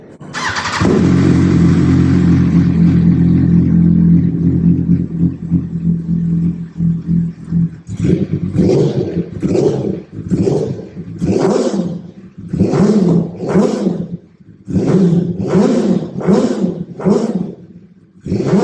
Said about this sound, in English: I think it's now time to rev this baby up and see what it sounds like